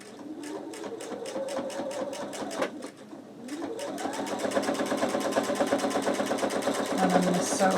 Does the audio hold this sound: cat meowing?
no